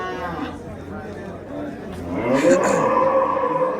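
A cow lets out low moos amid the bustle of a livestock market in Termez, Uzbekistan, with people talking nearby and a rising engine or vehicle noise in the background.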